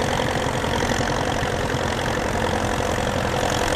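Minneapolis-Moline UTS tractor pulling a cultivator in a field, its engine running with a steady, close, loud rumble and even thumping rhythm, no voices.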